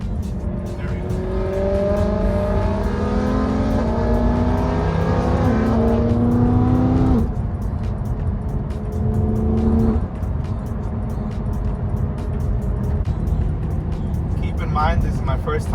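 Straight-piped BMW E92 M3 on a sunset drive, a loud raspy engine rising through the revs in long pulls with shifts between them, then settling into a steady cruise, heard close from inside the car.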